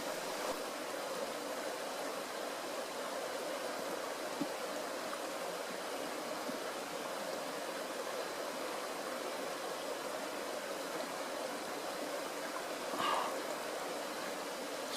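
Continuous gentle rush of a creek flowing along an Appalachian Trail section, steady and moderately close with a brief splash or handling sound near the end, no speech.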